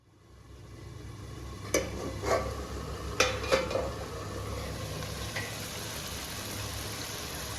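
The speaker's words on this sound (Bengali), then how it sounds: "মাটনটা অ্যাড করে আরও ভালো করে কিছুক্ষণ কষিয়ে নেব" Mutton fries in spice masala for a mutton chana masala while it is stirred, a soft sizzle broken by a handful of sharp spoon scrapes and clinks against the pot, fairly quiet, with no talking.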